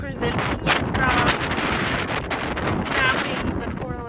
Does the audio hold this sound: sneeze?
no